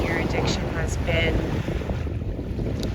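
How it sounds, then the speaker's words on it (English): Wind blows outdoors and buffets the microphone, making a continuous low rumble with gusty swells that dip briefly partway through. "Sorry if it's a little windy, if you can hear the wind here."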